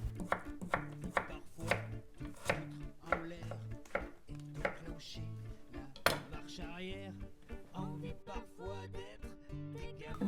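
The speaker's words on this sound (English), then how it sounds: "We are starting with butternut and mushrooms, cut in little cubes." Butternut squash and mushrooms being cut into small cubes with a knife on a board, a quick run of sharp, close taps in uneven bursts, with occasional soft voice and light clinks of kitchenware.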